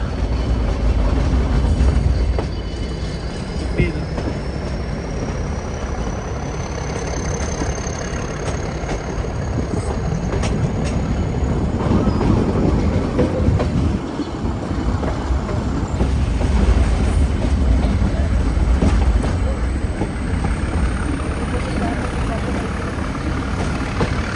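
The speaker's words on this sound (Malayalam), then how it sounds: "വില്ലിംഗ്ടൺ സ്റ്റേഷനിലേക്ക് ഇതാ ട്രെയിൻ എത്തിയിരിക്കുകയാണ്" A Nilgiri Mountain Railway train runs near Wellington station, its engine rumbling steadily and loudly for the whole stretch, with a faint high squeal riding over the continuous noise.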